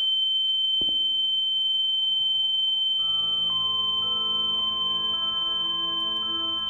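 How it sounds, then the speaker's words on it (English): A continuous high-pitched ringing beep drones steadily in a horror video game, with a brief knock early on and low hums and tones rising underneath partway through. "that ringing needs to stop"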